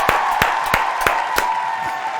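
Sharp, evenly spaced claps repeat about every third of a second over a sustained tone, like a small audience clapping in a steady rhythm.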